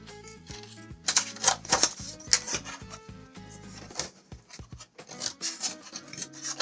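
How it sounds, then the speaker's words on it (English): Scissors snip through a large piece of craft paper in a run of quick, crisp cuts with short pauses between strokes, close up and fairly quiet, with paper rustling between snips. "I'm gonna try just cutting out a large piece of paper."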